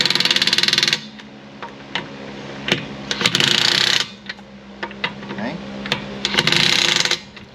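A pneumatic-style impact wrench tightens lug nuts on a Nissan Maxima, firing three loud, sustained rattling bursts with short ratcheting clicks and clunks of tool handling between them, close up.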